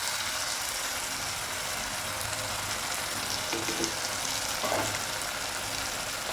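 Tomato and chicken masala frying in a pan, giving a continuous, even sizzle close by with a couple of faint stirring knocks near the end.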